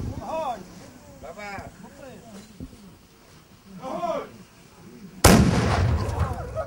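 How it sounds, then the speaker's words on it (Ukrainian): Ceremonial cannon shot fired by Cossacks at a memorial gathering, a single sudden loud boom that rolls on into a long rumbling tail after calm outdoor sound and someone talking. "Козаки честь свого героя вшанували гучним пострілом з гармати."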